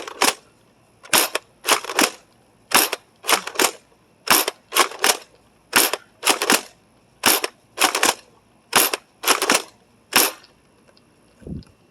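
Adventure Force Conquest Pro foam dart blaster slam-firing outdoors, a steady string of sharp, loud snapping shots at an even rhythm, around twenty in all, heard close and clear with nothing else over them.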